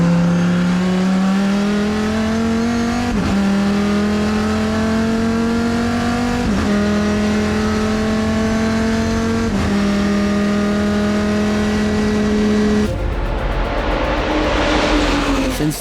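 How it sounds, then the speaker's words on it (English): Classic race cars at the Le Mans Classic roar past loudly, one engine climbing in pitch through several quick gear changes in a steady rhythm before the sound breaks into a harsher, noisier blast near the end. "when I saw the cars driving, I was saying to myself, they did have a beautiful sound back in the day"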